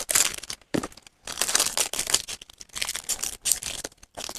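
Hard plastic wrap being peeled and crinkled off a tarot card tuck box, heard as close, bursty crackling and tearing with brief pauses between pulls.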